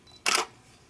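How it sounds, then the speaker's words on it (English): A Canon EOS 6D fitted with a battery grip fires its shutter once, a crisp close mechanical snap in an otherwise quiet room. "even if I went ahead and just snapped a pic"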